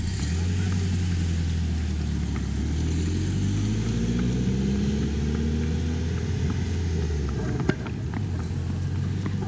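A car drives past on a road beside a horse trail during a trail ride, its engine a steady, fairly loud drone that rises and shifts in pitch as it passes.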